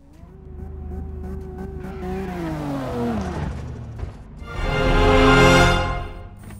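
Car drifting in CarX Drift Racing on Xbox, with a loud engine revving up and down in gliding pitch sweeps, then a long tire squeal swelling and fading as the car slides, no talking.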